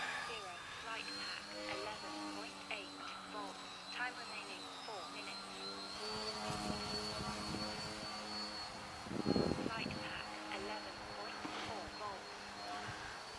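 A Future Model Edge 540T RC model airplane drones overhead, a steady high motor whine rising and falling as it flies, faint and distant, with someone talking throughout.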